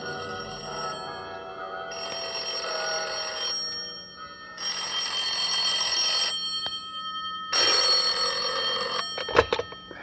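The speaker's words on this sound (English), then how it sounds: "That was when the bells started ringing in the Buddhist temple that had been built on top of the Mark Hopkins" Bells in a Buddhist temple atop the Mark Hopkins ring as a radio drama sound effect, sustained bright metallic ringing in repeated bursts separated by short gaps, fairly loud and alone, ending in a brief rattle.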